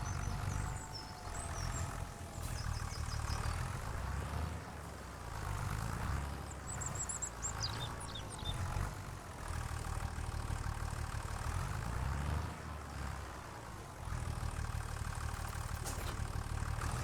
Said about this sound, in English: we'll probably drive this old tractor to town